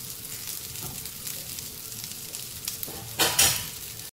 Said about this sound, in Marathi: अशा प्रकारे आपल्याला टिक्की भाजून घ्यायचे.